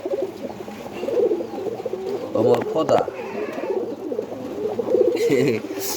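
Domestic pigeons kept in a coop coo close by in soft, repeated throaty rolls. Someone talks over them throughout.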